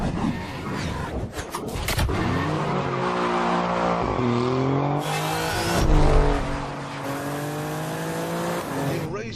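An Alfa Romeo Giulia Quadrifoglio with its 2.9 V6 in race mode pulls hard through the gears, the engine note climbing and dropping at each shift, with brief tyre squeal, loud and close.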